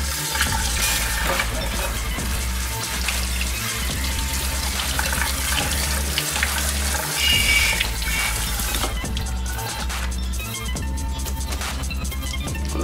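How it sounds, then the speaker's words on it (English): Hot tap water pours steadily and loudly over boiled potatoes in a kitchen strainer, a continuous splashing rush that lasts the whole stretch with no talking. "We go ahead and hit these with hot water."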